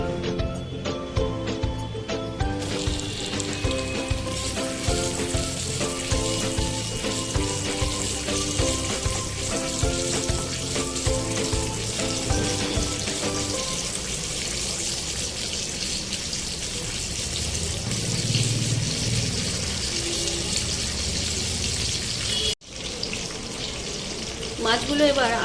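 Katla fish pieces sizzle in hot oil, a continuous close frying hiss that builds after the fish goes in, with music playing over the first half and a brief dropout near the end.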